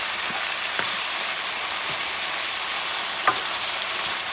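Picadillo simmering in a pan with tomato sauce, a steady close crackling sizzle with a few soft pops and stirring taps scattered across it.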